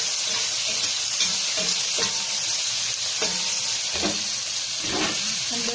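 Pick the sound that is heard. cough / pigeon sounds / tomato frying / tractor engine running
tomato frying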